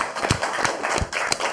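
Applause from a small audience at a French podcast recording, sharp claps with several louder bursts over about a second and a half, close and fairly loud.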